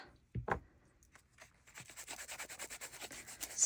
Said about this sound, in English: scuff it up a bit